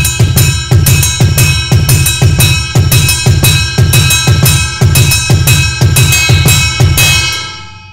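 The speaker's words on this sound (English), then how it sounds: "So when you put the bass and a ride cymbal together" Drum kit playing a pattern with a steady thumping bass drum and a bright, shimmering ride cymbal struck in an even, repeating beat, loud and close, ending as the cymbal rings out.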